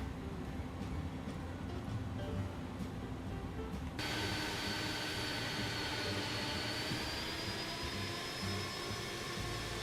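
Jet engine thrust reversers in a flight simulator game, a continuous broadband roar that steps up abruptly partway through into a louder, brighter rush with a high whine, with no talking.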